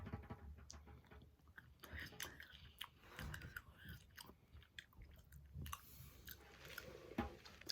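Close biting and chewing of a Crumbl peppermint holiday cookie, with soft crunches and moist mouth sounds that continue steadily over low background noise.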